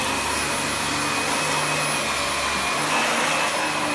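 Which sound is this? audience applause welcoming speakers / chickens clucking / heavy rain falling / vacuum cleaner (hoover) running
vacuum cleaner (hoover) running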